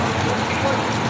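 Heavy rain pours steadily on the streets of Shubra in Cairo, Egypt, a dense, constant hiss of downpour heard close by with no clear talk.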